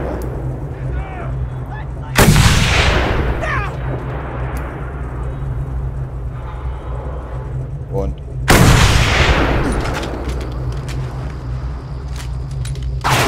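Two heavy gunshots or blasts ring out loud and close in the Mad Max video game, each with a long rumbling tail, over a steady low engine-like drone.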